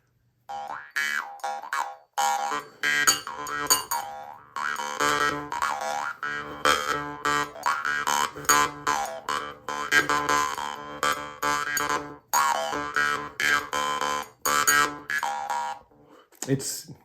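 Rhythmic metallic twanging of a Mongolian jaw harp, played close and steadily with wah-like changes in tone, broken by brief pauses.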